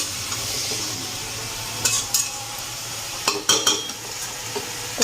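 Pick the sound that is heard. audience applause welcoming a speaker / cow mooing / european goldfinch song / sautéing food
sautéing food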